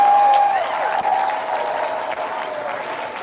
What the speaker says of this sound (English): Give my team a round of applause for that.